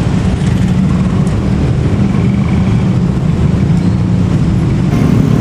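A short one-carriage train rolls past the Bungur level crossing, a loud steady rumble of engine and wheels close by, with no talk.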